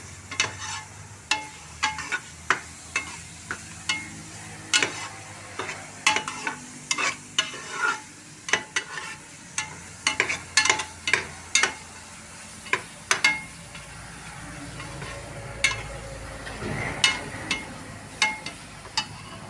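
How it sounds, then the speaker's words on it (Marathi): Bell pepper (capsicum) sautéing in a pan for pav bhaji, with steady sizzling and frequent sharp clicks and scrapes of a spoon stirring against the pan, close up, with no voices. "ही जी शिमला मिरची आहे ती मी एक एक दोन तीन मिनटं चांगली परतून घेणार आहे"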